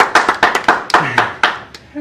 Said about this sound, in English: Good job, hand clap